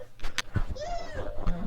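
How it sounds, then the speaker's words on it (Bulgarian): One drawn-out, rising-then-falling meow sounds up close, framed by a few brief clicks. "Мяу!"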